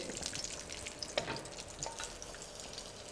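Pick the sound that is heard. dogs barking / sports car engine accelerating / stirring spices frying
stirring spices frying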